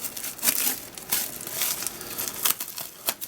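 Scissors cutting a small piece of large-bubble bubble wrap, giving close, irregular crinkling and crackling snips that rise and fall over a few seconds.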